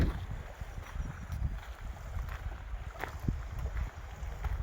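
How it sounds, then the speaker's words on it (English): Strong wind gusts buffet the microphone outdoors near lakes in Nova Scotia, a constant low rumbling roar with uneven surges and no voices. "Holy crap, is it ever windy though."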